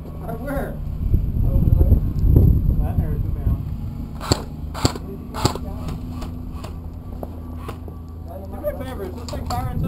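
Airsoft guns firing during an outdoor skirmish game, a few sharp isolated pops spaced out over several seconds, heard amid people talking and calling out to each other.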